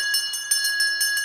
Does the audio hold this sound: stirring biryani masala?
no